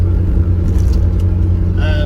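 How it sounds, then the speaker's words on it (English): An Austin 1100, a 55-year-old car, accelerating on the road at around 50 mph, its engine a steady loud drone with low rumble throughout, a voice talking over it and a brief higher whine near the end. "Oh, it does actually pick up if you keep your foot down a bit."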